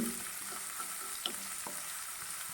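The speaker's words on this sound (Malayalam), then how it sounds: "ഇനി എല്ലാം കൂടി ഒന്ന് ഇളക്കി വാട്ടിയെടുക്കാം." Green chilies and onion sauté in a pan for wheat upma, a constant close sizzle with soft scrapes and a light clink of stirring, no voices.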